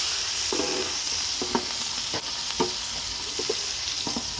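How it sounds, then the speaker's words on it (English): Tortellini on a griddle hisses and sizzles as water is added to steam it, with a few soft spatula scrapes and taps breaking through the steady close frying noise. "I'm going to cap them, just let them steam just a little bit."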